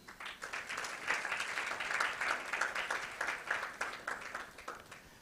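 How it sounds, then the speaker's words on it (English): A hall audience at a World Children's Day media symposium gives a steady round of applause, dense even clapping held for several seconds at moderate distance without talk. "I would love us to give a round of applause again to the children to which we're gathered here for."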